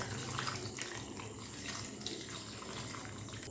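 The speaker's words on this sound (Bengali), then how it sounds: "আর তার সাথেই দিয়ে দেব আগে থেকে জাল করে রাখা সেই দুধ" Boiled milk pours steadily into a mixer jar holding ripe mango pieces, making a continuous liquid splashing rush close by without talk.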